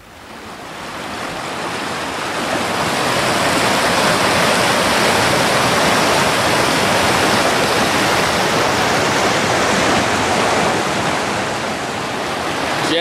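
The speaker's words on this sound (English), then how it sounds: "The fish are just coming up over their first set of falls." A waterfall on the Sproat River, where salmon climb the first set of falls, gives a loud, steady, broadband rush of pouring water that swells in the opening seconds and then holds constant with no voices.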